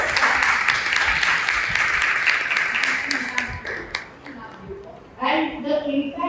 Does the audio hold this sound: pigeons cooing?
no